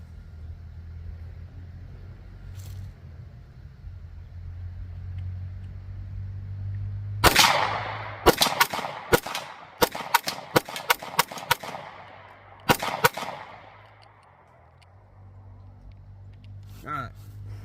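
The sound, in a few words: Taurus G2C pistol rapid fire gunshots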